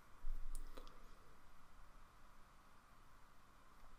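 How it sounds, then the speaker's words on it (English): A computer mouse clicks on a download link, a couple of small sharp clicks near the start, quiet and close over faint steady hiss. "And then you click on the download link."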